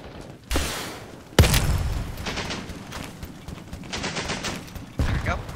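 A rocket launcher fires in the video game BattleBit Remastered with a sharp, loud blast partway through, amid bursts of rapid gunfire and brief talk.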